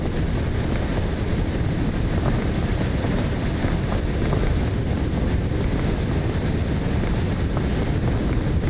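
Steady, loud wind rushing in the climbing video game PEAK, a dense broadband roar that holds constant without pause or speech.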